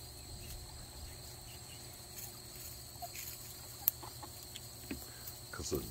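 A rooster clucks softly and sporadically outdoors, faint against a steady chorus of chirping crickets and insects.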